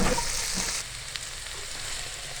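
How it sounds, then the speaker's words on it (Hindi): Carrots and mixed vegetables fry in a hot pan for vegetable kababs, giving a steady close sizzle that starts loud and eases slightly after the first second, with no talking. "इसके साथ ही हम गाजर शामिल कर देंगे। ये देखें, माशाल्लाह ज़बरदस्त। इसको 2 मिनट हम फ्राई करेंगे।"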